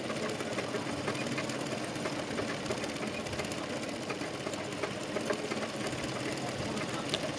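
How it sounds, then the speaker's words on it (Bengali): A sewing machine runs steadily while stitching two petticoat panels together, its continuous mechanical whir filling the clip without pause from start to finish. "এবার আর দুটো পার্ট সমান করে নিয়ে এটিকে সেলাই করে নিচ্ছি।"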